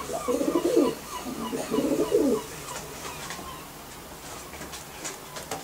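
Domestic pigeons coo in two low, rolling bursts near the start, then softer faint calls and rustling follow.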